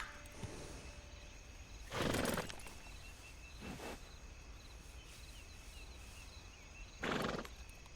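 Horse in the video game Red Dead Redemption 2 giving short snorting, whinnying bursts at about two, three-and-a-half and seven seconds over a steady low ambient bed, with no talk.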